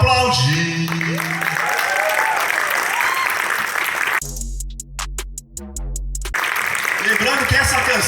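An audience at a municipal culture conference in Brazil claps in a broad, steady wash, with voices talking over the start and end and a musical tone cutting through the middle.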